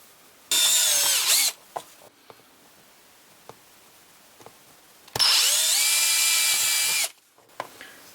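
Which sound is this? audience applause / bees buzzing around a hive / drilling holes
drilling holes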